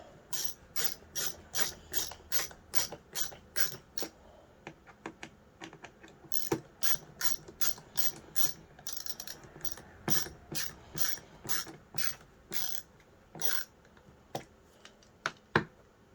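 A ratcheting screwdriver clicks in rapid, regular bursts while a 2007 Bissell PowerForce vacuum cleaner is put together, the dry ticks close and fairly quiet, with no talking over them.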